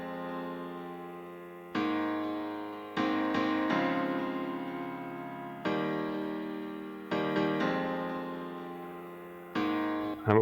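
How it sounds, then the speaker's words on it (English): Synth chords with a small four-step ping pong delay, struck in a repeating pattern of sharp stabs whose echoes trail and decay between hits, clean and alone with no voices. "And I'm going to put on a small 4-step delay, just a very, very small one. So we're going to set this to 4 ping pong"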